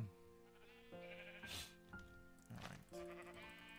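Sheep bleat repeatedly in a Minecraft-style hardcore survival game, a few close wavering calls in a row with a brief spoken word from a player.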